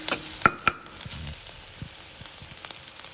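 Beaten eggs going into a frying pan with onions, giving a steady soft sizzle with a couple of sharp clicks near the start.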